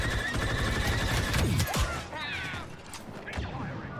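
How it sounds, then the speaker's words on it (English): Blaster gunfire fills a Star Wars Battlefront 2 Galactic Assault match: dense rapid bursts and scattered shots at varied distances, with sweeping laser-like whines and whooshes and a steady battle rumble beneath. "I'm just shooting everywhere"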